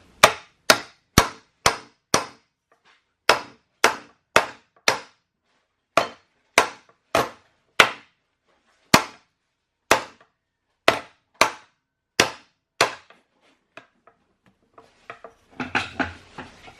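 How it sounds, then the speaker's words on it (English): Sharp metallic hammer blows on a Toyota RAV4 U-joint yoke ring out in quick bursts of three or four, pausing between sets, close and loud, with a brief scraping clatter at the end. "You can start hammering it back this way."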